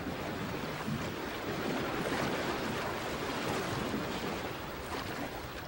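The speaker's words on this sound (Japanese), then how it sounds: "激しく揺れ動く波の上をイカダは自在に乗って本流を下っていく" Fast Yellow River current churning beneath a traditional raft as it rides rough, heaving waves downstream; a steady, close, loud wash of rushing water fills the whole span without any talk.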